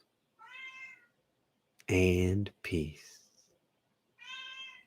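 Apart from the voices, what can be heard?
cat meowing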